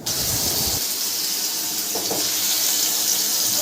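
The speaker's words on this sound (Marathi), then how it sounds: "तेल ओतलं आणि एक एक पीस चालू केलं आहे टाकायला तव्यावरती" Chicken 65 pieces frying in oil on a flat pan, a steady close hiss and sizzle throughout with a brief crackle near the start.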